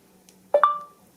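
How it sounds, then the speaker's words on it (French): A VoxiOne voice-assistant device gives a short electronic prompt before a voice command: two quick tones in a row, the second held a little longer, clear and close against a quiet background. "Vous appuyez sur ce bouton et vous dites tout simplement Option après le bip."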